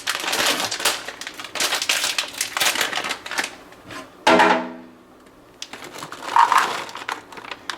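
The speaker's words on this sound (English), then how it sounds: "I'm going to put 2 cups of dried cherries in here." Two cups of dried cherries pour into a pot in rattling, crunchy cascades, a loud clattering rush mid-way and another spill near the end, with no talk.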